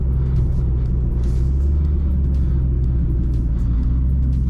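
A BMW M2 engine pulls hard onto a highway, a deep steady rumble heard from inside the car with continuous low drone and no talking.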